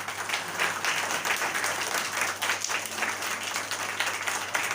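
A church congregation at a Palm Sunday gathering breaks into steady, dense applause, many hands clapping continuously and fairly close for several seconds, with a low hum underneath.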